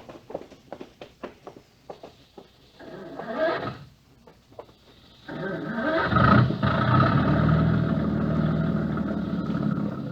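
An outboard engine on a small boat with two men aboard cranks with a quick series of clicks, sputters briefly, then catches and runs in a steady, close drone.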